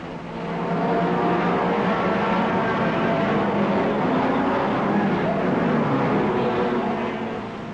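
Racing cars roar away at the start of the 1961 Le Mans 24 Hours, led by Clark's Border Reivers Aston Martin with Salvadori, GT Astons and a blue GT Ferrari behind; a dense, sustained engine roar rises in and holds, with a voice talking over it.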